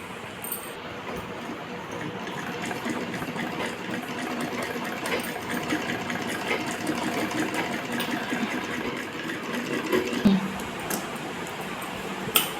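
A sewing machine stitches fabric for a converted palazzo pant and top, whirring in a continuous fast rhythm at close range with a few brief clicks and pauses.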